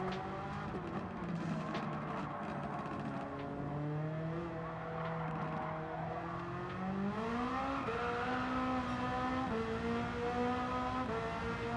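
Street car in a racing video game on the Nordschleife, engine roaring steadily and climbing in pitch as it accelerates out of corners, with gear shifts and repeated rising sweeps over about twelve seconds, loud and continuous.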